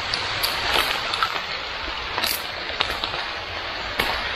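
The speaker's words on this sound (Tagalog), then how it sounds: "Malakas yung ulan." Heavy rain pours steadily outdoors during a morning fishing trip, a dense hiss with scattered louder drops and patters close by, and no one speaking.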